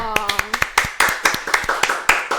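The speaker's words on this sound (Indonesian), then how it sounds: "Tepuk tangan dong." A few people clap in a podcast studio, a sparse, close run of distinct claps at an irregular rhythm, with a voice speaking at the start and over part of it.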